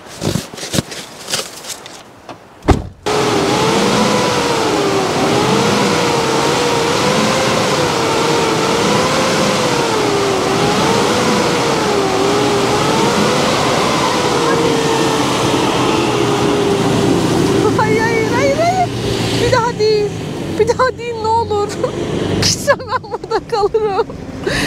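A vehicle engine revs hard and steadily while its wheels are stuck in snow at a winter camping spot, the strained drone wavering up and down for many seconds, with voices speaking near the end.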